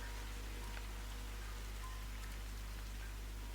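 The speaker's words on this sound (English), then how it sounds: "And it's raining outside." Winter rain falls outside in Andalusia as a steady, even hiss of drops, constant throughout with no voices.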